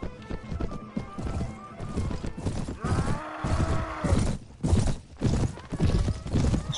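A horse in the Mount and Blade game, set in 13th-century Rus, gallops with rhythmic clip-clop hoofbeats and lets out a drawn-out whinny, loud and close amid battle noise.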